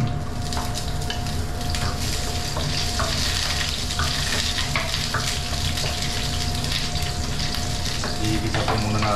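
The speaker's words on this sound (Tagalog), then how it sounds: "Igisa po muna natin." Kulitis greens sautéing in hot oil give a steady, loud sizzle with stirring scrapes throughout, and a faint tonal hum runs underneath; no one speaks.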